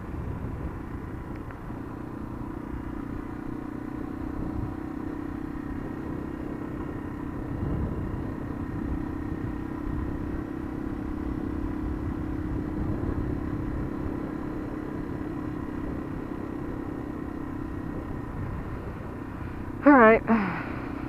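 A single-cylinder four-stroke motorcycle engine rumbles steadily at moderate level for a long stretch under ongoing talk from a rider, with a brief sharp clatter near the end.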